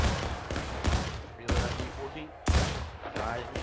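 Musket fire from a War of Rights Civil War infantry battle, several sharp crackling shots spaced about a second apart, mixed with battlefield noise and speech.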